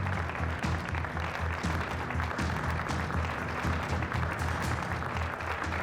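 An audience claps for Ali as he goes on stage, a dense, sustained round of many hands clapping at an even, fairly loud level for the whole stretch, with no break.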